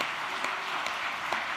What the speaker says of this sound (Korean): 우리 주님께 뜨거운 감사의 박수를 올리겠습니다